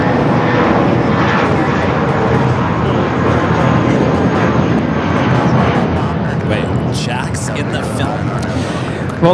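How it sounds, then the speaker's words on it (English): Loud, steady engine rumble from a Volaris Airbus A320 taking off at LAX, holding strong throughout and easing slightly toward the end, with voices mixed in. "Volaris 1713 taking off to Guadalajara on the A320"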